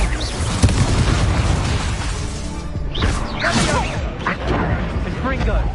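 Confringo fire spell blasts in Hogwarts Legacy, loud booming explosions with whooshing bursts and crackling debris, layered over continuous game noise and a character's shouted spell calls.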